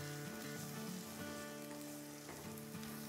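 Onions sizzle steadily in a hot pan with a little salt, a soft, even frying hiss that carries on without a break, with a bright hum running underneath.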